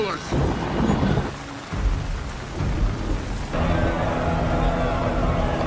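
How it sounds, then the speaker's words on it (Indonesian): In a Viking film battle scene, rain pours steadily while deep rumbles of thunder roll through, loud and close, with a heavy downpour settling in toward the end. "Sebelum pertarungan dimulai, hujan pun turun."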